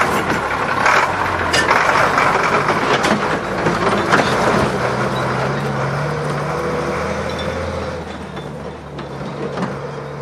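A vintage Soviet BTR-152 armoured personnel carrier runs its engine: a loud, continuous, throaty rumble with rough mechanical clatter, which eases slightly toward the end. It is recorded close by in the open air, with no speech.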